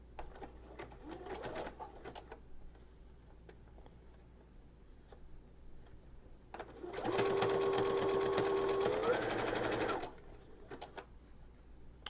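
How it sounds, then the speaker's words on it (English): A sewing machine fitted with a tape stitching foot runs in one loud, steady burst of close mechanical stitching for about three seconds, preceded by quieter handling and a short earlier whir. "you are ready to start sewing again"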